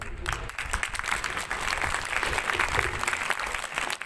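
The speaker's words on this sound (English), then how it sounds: "you really deserve a big round of applause" Audience applause fills a feast day celebration, a dense, steady wash of many hands clapping that stays loud and continuous from start to finish.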